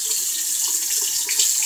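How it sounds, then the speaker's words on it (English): A bathroom sink tap runs steadily, the water hissing and splashing into the basin, close and fairly loud, with no voices. "So, let's go to the sink. So, I gotta warm it up. Warm the water up."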